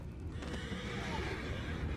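A horse in the video game Red Dead Redemption 2 neighs and whinnies, fairly quiet, with faint hoof clip-clops over a low rumbling background and no voices.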